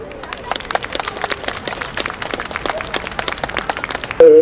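A ceremony audience in Korea breaks into lively applause at an organization's launch event, many hands clapping at close range in a dense, steady patter that runs throughout before a brief louder sound cuts in at the very end.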